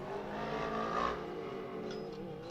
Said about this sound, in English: there's definitely some funny noises coming from some of these cars